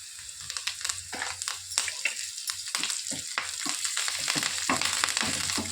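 Curry leaves crackle and spit in hot oil as a mango pickle is prepared, a dense run of quick sizzling pops close by, growing slightly busier toward the end, with no talk.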